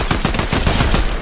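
A rapid, continuous burst of automatic gunfire in the video game Fortnite, loud and close, with evenly spaced shots over a little more than a second and no talk.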